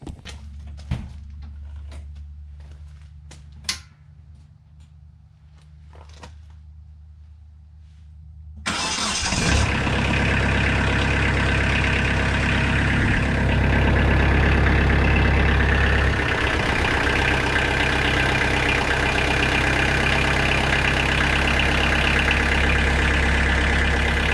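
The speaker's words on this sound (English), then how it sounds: "let's go ahead and fire it up" A Kubota tractor diesel engine cranks and fires after a fuel filter replacement, jumping from near quiet to a loud, steady idle that runs close by and alone for the rest of the clip.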